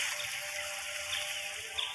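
Water flows steadily in a Roblox prison escape game, a continuous hissing wash with a faint tonal hum, even and close, with no voices over it.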